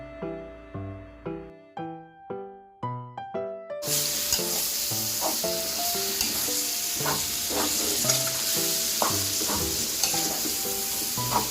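Chopped pork hits a hot pan for pork dinuguan and is stirred and fried, a steady close sizzle with scraping stir strokes, following a run of short, evenly spaced tonal notes at the start.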